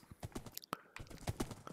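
Horses' hooves clip-clopping in the blocky survival game Minecraft, a quick run of clicky hoof steps mixed with other game sounds and a sharp pop, fairly faint.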